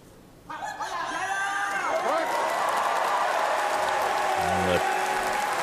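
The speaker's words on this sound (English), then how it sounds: "A noise of appreciation from the crowd" A crowd at a Paralympic powerlifting competition in Paris breaks into loud cheering and applause after a lift, the roar swelling suddenly and holding steady with whoops mixed in.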